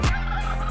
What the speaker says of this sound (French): Glou le dindon.